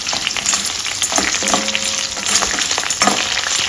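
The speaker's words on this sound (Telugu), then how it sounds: "ఇది వేగిన తర్వాత ఒక గుప్పెడు కరివేపాకు వేస్తున్నానండి" Dried red chillies, green chillies and curry leaves crackle and sizzle loudly in hot tempering oil, a close, busy frying sound with stirring throughout.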